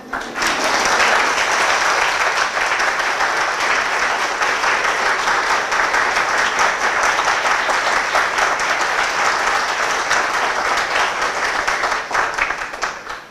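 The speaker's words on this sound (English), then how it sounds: "please give me a huge round of applause" A huge round of applause fills an HR summit hall, dense crowd clapping sustained at a steady loud level for over ten seconds before tapering slightly at the end.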